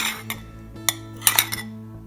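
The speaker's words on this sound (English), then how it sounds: "we're gonna add 3 tablespoons of flour to our mug" A spoon scoops flour into a mug, giving a few light, close clinks and taps of metal against ceramic spaced across a couple of seconds, then quiet.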